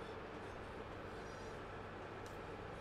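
HST and other trains moving off together on the South Wales coastal line in Train Simulator Classic, a steady, dense rumble of engines and rolling stock that holds at an even level throughout with no talk.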